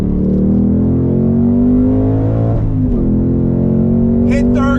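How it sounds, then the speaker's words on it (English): A 2021 Ford Mustang Mach 1 braking hard on track as its engine rev-matches a downshift. The loud, steady drone shifts briefly in pitch midway while someone talks over it. "That automatic rev match downshifting is on the money."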